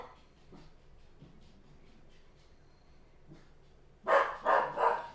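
A dog barks three times in quick succession, loud and close, after a stretch of quiet room sound.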